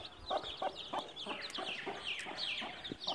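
Aseel chicks, young white and yellow birds, peep with a hen clucking nearby, a quick run of short bright chirps repeating close and clear with no talk.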